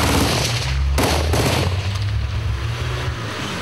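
Sustained heavy gunfire in a combat zone where French Foreign Legion soldiers are under fire near an armored vehicle, a dense, continuous roar of overlapping shots filling the whole span, loud and close.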